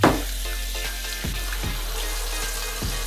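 Cold water running steadily from a kitchen tap during hand washing, a continuous hiss and splash lasting throughout with a few soft knocks, close and moderately loud, no talking.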